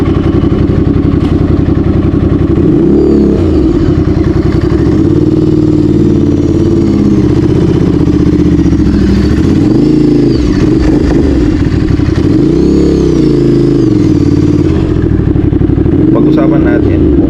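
A 2022 Ducati Scrambler in orange and black livery runs close by, its engine loud and clattery, idling steadily with several rising and falling revs.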